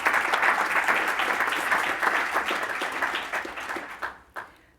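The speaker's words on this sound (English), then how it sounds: "Could we give a round of applause to Impactiva?" Applause from a conference audience fills the room, dense and sustained at first, then thinning out and fading to a few last claps.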